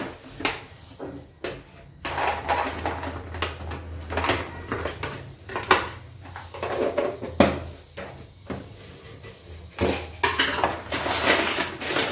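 A metal spoon handled beside a bowl of muesli with dried fruit and nuts in a home kitchen, giving a string of close, irregular clinks and clatters of cutlery and dishes with brief pauses, no talk.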